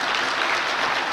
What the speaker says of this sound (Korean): 여러분 그냥 박수로 한번 축하해 주시기 바랍니다.